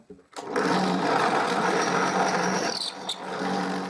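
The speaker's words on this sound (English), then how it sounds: "I will use a 7 mm drill bit to drill a hole in the center of the 15 mm thick plywood disc" A drill with a 7 mm bit bores a hole through the center of a 15 mm thick plywood disc. The motor whines steadily and loudly for over three seconds, with a short dip near the end before it resumes.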